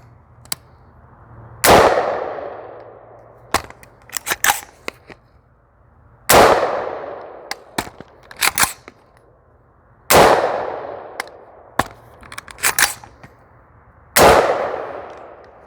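AR-15 rifle firing PMC X-Tac 55 grain ammunition outdoors: four loud, sharp reports spaced a few seconds apart, each ringing out into a decaying tail, with smaller metallic clinks and clatters between them and no talking.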